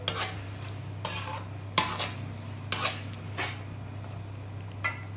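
Spices and chickpeas dry-roasting in a pan for Lahori chanay, with a spatula scraping and stirring in about seven distinct strokes over a steady low hum, close and moderately loud, no talking.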